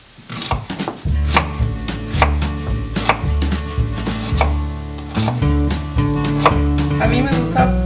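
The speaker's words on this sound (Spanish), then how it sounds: "Vamos a picar la cebolla." Onion being chopped with a knife on a board, a fast steady series of sharp close knocks that continues throughout, loud and alone with no talk.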